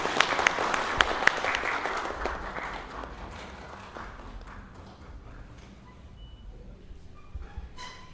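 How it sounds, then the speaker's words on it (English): Audience applause at a film festival award ceremony, loud at first with a few sharp claps, then thinning and fading into scattered clapping and room noise. "let's give him a big round of applause"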